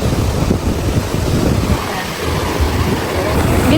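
Ocean surf rolling in at Bagasbas beach, a steady broadband wash of waves with wind buffeting the microphone, continuous and fairly loud throughout.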